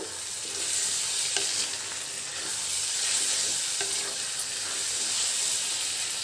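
Andhra-style prawn curry sizzles in a hot pan while being stirred, a steady crackling fry with scraping strokes of the spoon throughout, no voices.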